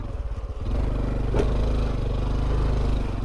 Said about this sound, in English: A little bit of a log hop here.